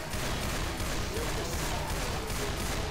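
Dense, continuous gunfire rattles in Left 4 Dead 2, a loud, unbroken barrage of rapid shots filling the whole moment with no talk over it.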